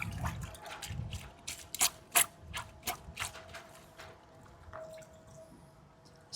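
A polishing pad rubbed against a grit guard in a bucket of microfiber towel wash, giving a run of wet, ratchety scrapes and clicks with drips, close up and uneven, then easing off.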